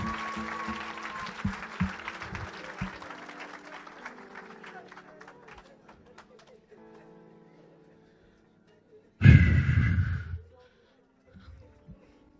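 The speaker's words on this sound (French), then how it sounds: "Give a hand clap to God." A church congregation in Évry, France bursts into a loud round of applause and hand clapping lasting about a second, following fading music and a stretch of near silence, with a few scattered claps afterward.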